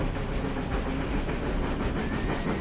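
A train in a Roblox video game pulls into a station with a steady, dense rumble and hiss of rail noise that stays loud and even throughout, with no voices.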